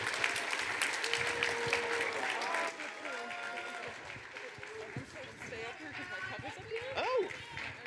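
Convention audience applauds steadily in a large hall, dense clapping throughout with voices and a few whoops mixed in, somewhat distant and moderate in level.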